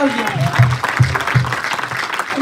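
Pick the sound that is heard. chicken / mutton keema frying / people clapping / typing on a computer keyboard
people clapping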